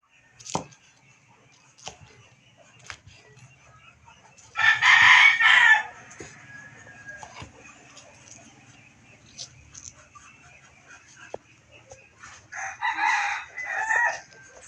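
A rooster crows loudly twice, with scattered clucks and soft farmyard noises in between, fairly close by, at a chicken breeding pen.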